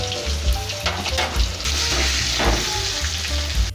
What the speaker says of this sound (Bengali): এই লবণ হলুদ দিয়ে ভাজলে আলুর কালারটা ভালো আসবে